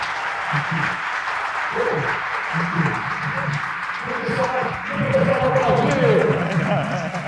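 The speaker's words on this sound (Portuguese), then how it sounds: "Vamos aplaudi-lo, vamos aplaudi-lo." A lecture audience on AI ethics claps after a talk, steady dense applause swelling toward the end, with voices speaking over it.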